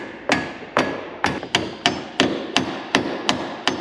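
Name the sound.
hammering clevis bolt into airplane wing stand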